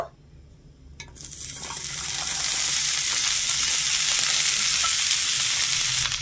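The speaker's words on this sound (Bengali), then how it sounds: "তেলটা গরম হয়ে গেলে কেটে রাখা কুঁদরিগুলো তেলের মধ্যে ছেড়ে দেব।" Sliced ivy gourd (kundri) hits hot oil in a pan; after a brief quiet moment and a clatter, a sizzle surges up and settles into a loud, continuous hiss.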